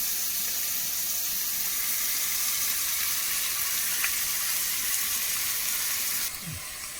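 A steady, dense bubbling hiss of curry boiling in a pot, continuous and close, with a faint clink near the end.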